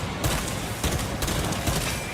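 Pistol fire in a Warhammer 40K video game: four sharp, loud bangs at a steady pace, each cutting through a dense, noisy game soundscape with no talking.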